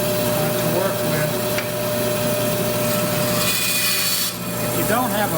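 Bandsaw cutting a wooden spoon blank, a continuous dense whirring rasp of blade through wood with a steady motor hum, close and loud for the whole stretch, easing briefly near the end.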